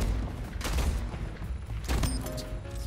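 Gunfire in the arena shooter Splitgate, a few bursts of shots and booms spread over a few seconds, loud and close with no talking.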